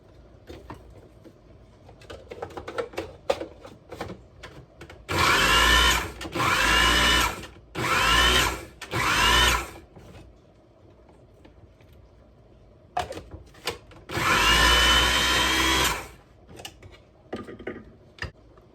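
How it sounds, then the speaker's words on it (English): Food processor chopping a medium onion cut into four pieces, with four loud motor bursts in quick succession, a pause filled with light kitchen clatter, then one longer burst. "We'll just cut it in 4 pieces and stick it in the food processor."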